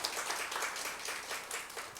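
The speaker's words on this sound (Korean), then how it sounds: "모두 박수로 환영해 주세요." A church congregation at a Sunday service applauds to welcome visitors: steady, soft clapping from many hands throughout, fairly faint and diffuse, with no talking over it.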